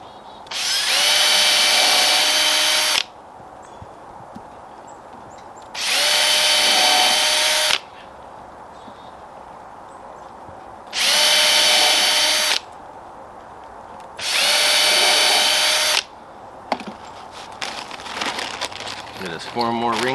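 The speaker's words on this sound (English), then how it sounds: "We'll go ahead and give a little pre-drill" A power drill pre-drills holes in wood for a weasel box. Four loud, steady whirring bursts of about three seconds each are separated by pauses, followed by rustling and handling noise.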